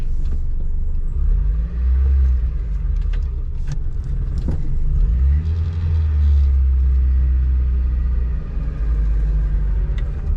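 Stick-shift car driving along a straightaway, heard from inside as a loud, continuous low engine rumble that swells as it picks up speed, with a few thumps and rattles and no talking.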